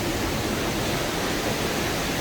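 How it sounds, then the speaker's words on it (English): Steady, dense roar of a waterfall at Silver Falls in Oregon, heard up close from the trail behind the falling water, continuous and loud with no voices. "looks like we're gonna actually walk behind the waterfall"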